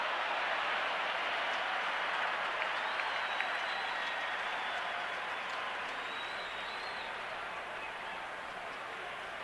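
Large stadium crowd of 55,155 mostly Twins fans at Game 6 of the 1991 World Series, Braves at Twins, a dense continuous roar of cheering and clapping at steady loudness, a voice talking faintly beneath it.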